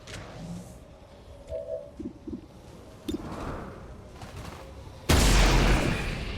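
Gunfire aimed at zombies in a video game, scattered muffled shots and thuds building to a sudden loud burst of sustained firing near the end.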